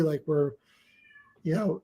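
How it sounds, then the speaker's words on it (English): A house cat meows in the background, a thin drawn-out mewing heard faintly between nearby spoken words. "That's my cat."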